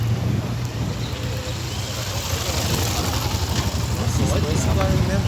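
Yamaha XT motorcycle engine running steadily up close at a car meet, a continuous low rumble with constant broadband noise and wind throughout, no clear revs.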